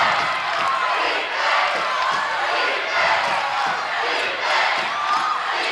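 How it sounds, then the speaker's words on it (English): A home crowd at a Campbell women's college basketball game against Hofstra roars and cheers in a gym, a loud continuous wash of voices swelling and dipping, with faint squeaks and bounces from the court. "Campbell crowd trying to get involved"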